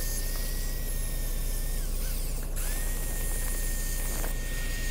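A maple bowl spins on a wood lathe while being sanded with 80 grit paper, giving a steady close whirring hum with a high motor whine and a brief dip in the middle.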